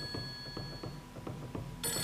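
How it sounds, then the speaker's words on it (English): In Fatal Frame 3, a telephone rings in a quick repeating bell pattern, its bursts coming rhythmically in a quiet, eerie space, moderately faint and without speech. "Answer that phone, that ring."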